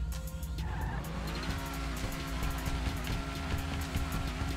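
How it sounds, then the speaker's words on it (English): A Hennessey Camaro ZL1 in GTA 5 warms its tires with a steady loud squeal over a droning engine, the rubber screech holding continuously throughout as the motor's pitch climbs and settles, close and without talking. "Warm them tires up."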